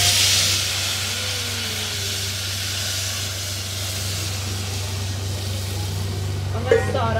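Savaiya vermicelli frying in a pan gives off a steady, close broadband sizzle that holds evenly for the whole stretch, with a brief clink near the end.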